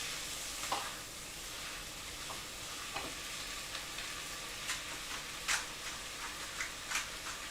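A mixture seasoned with salt, sugar and pepper being stirred in a pan: faint scraping and tapping clicks at irregular intervals over a steady, low sizzle.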